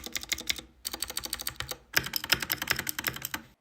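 Rapid clacky typing on a Keychron K6 compact mechanical keyboard with blue switches and no foam inside, close and bright, in quick bursts with one brief pause.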